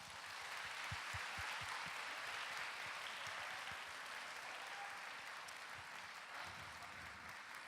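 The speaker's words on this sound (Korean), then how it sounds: "큰 박수로 맞이해 주십시오." A church congregation at a 21st anniversary celebration applauds warmly to welcome its youth mission children. The clapping forms a dense, sustained wash of many hands, with a few louder claps standing out early on.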